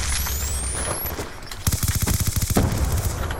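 Suppressed MP7 submachine gun in a shooter game: after a stretch of ambient combat noise, a rapid automatic burst of about a dozen evenly spaced, punchy shots fires up close, then stops.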